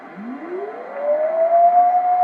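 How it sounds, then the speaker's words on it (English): A radio tone slides upward in pitch over a hissy noise background, then settles into a steady whistle as the receiver is tuned down to the AM carrier on upper sideband. "now we're going to tune down to hear the carrier because we're on upper sideband."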